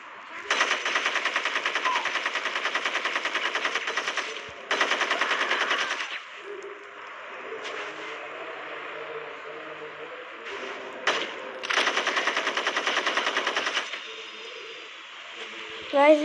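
Repeated automatic gunfire from a gun in the Gangster Vegas video game, three long rattling bursts of rapid shots separated by quieter game ambience with a few single cracks.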